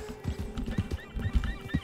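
Horse in the video game Red Dead Redemption 2: close, repeated hoof clip-clops with snorts and whinnies, loud and steady through the short stretch with no talk.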